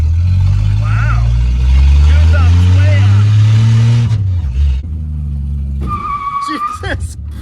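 A 1967 Plymouth Barracuda's engine revs and then cuts off sharply as tires squeal in a hard stop, followed by a brief squeak.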